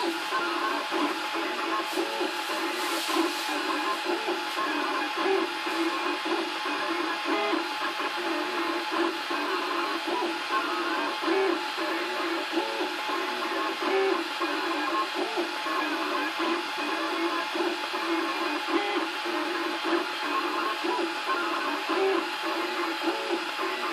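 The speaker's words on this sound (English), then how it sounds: "How does the printer actually prints?" A steady mechanical whir with faint rhythmic pulsing continues throughout from a Cubify Cube 3D printer running at a constant pace, fairly close and unbroken.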